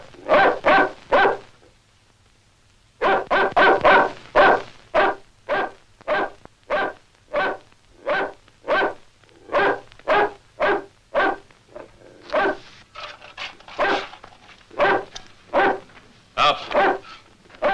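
A dog barks repeatedly in steady, loud single barks with short gaps, after an opening cluster and a pause, then faster overlapping barks near the end, with a low background hum.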